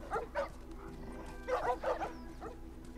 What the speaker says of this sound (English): And we have to shoot these dogs.